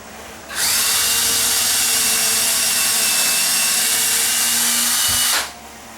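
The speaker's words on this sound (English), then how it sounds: "And I'm going to pre-drill that." A power drill whines loudly at steady high speed for about five seconds, pre-drilling a hole up close while installing a ceiling fan pancake box, then spins down and stops.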